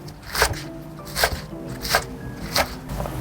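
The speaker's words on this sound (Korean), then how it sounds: "쪽파는 3, 4cm 간격으로 썰어주세요." A knife chops green onions into 3-4 cm pieces on a cutting board for Korean napa cabbage water kimchi, four crisp, evenly spaced thunks, close and fairly quiet.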